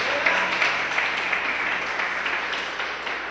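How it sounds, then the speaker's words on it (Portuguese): A congregation at an evangelical church service applauds, steady dense clapping filling the space at moderate volume, continuous and even with no voices over it. "Dê um forte aplauso ao Senhor."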